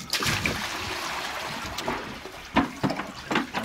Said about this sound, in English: Fill her black bucket up because that's the one that she likes.